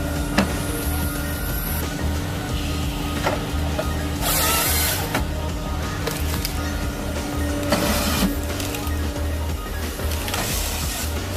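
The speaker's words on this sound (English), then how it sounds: "Whether the wood is hard or soft, the machine handles it with ease." A wood peeling machine debarks logs with a continuous mechanical whir and rattle, punctuated by sharp hissing scrapes and clanks, fairly close and steady throughout.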